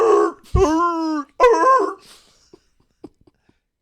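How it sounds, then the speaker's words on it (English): A pet dog whines and yips in drawn-out, pitched cries for about two seconds, close and clear, followed by a few faint short sounds. "Here's my dog."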